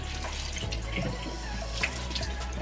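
Warm water runs from a tap to dampen a washcloth, making a close, steady splashing and trickling with small drips and spatters.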